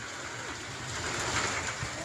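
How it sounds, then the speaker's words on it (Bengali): Hailstones fall on a tin roof during a nor'wester storm, a dense, steady metallic patter that swells slightly in the middle, with no talking. "এখানে টিন, এটা টিন দেওয়া আছে, আর টিনের ওপর টুং টাং করে পড়ছে।"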